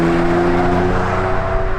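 A Ferrari 456 GT in second gear, its engine pulling hard under acceleration with a loud, steady note rising in pitch, heard close from inside the car.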